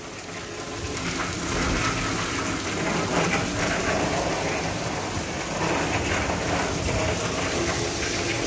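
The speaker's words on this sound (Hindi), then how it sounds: "मौसम बहुत ही खूबसूरत हो चुका है और बारिश भी आप देख सकते हैं।" Heavy rain pours steadily in Faisalabad, a dense, constant hiss of drops hitting surfaces with faint distant thunder rumbling underneath, no voices.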